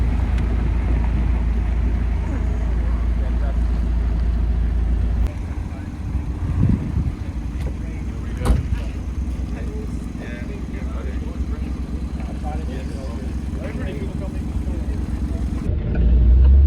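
A Morgan Supersport sports car drives fast on the road, a steady engine drone and heavy wind rush that eases and then builds again, with people talking over the noise.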